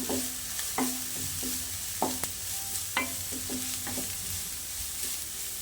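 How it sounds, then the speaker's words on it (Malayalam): Crushed ginger and garlic stirred in a hot pan: a faint, steady sizzle broken by repeated sharp taps and scrapes of a utensil against the pan, with no speech. "ഇനി ഇതിൻ്റെ പച്ചമണം മാറുന്നത് വരെ ഒന്ന് ഇളക്കി കൊടുക്കാം"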